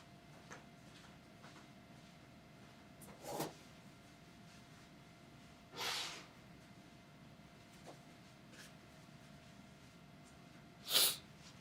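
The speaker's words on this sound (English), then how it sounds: "I gotta blow my nose." A person blows their nose in a quiet office late at night, a few short separate honking bursts spaced several seconds apart, the last one sharpest and loudest.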